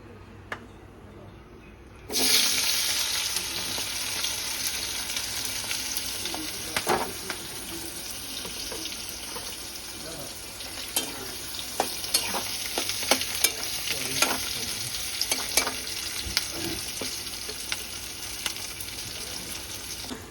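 Sliced onion and green chilli frying in a pan and being stirred: a loud, continuous sizzle begins after a quiet moment, broken by repeated scraping and clinking of the spatula, with voices faintly in the background.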